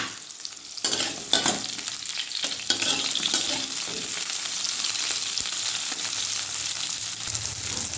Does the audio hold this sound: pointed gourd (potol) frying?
yes